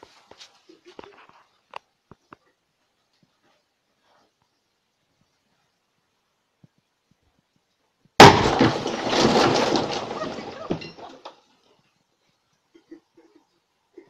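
A stove collapsing and breaking apart, likely a brick or tiled heating stove: one sudden loud crash followed by about three seconds of clattering, shattering debris, with near silence before and after.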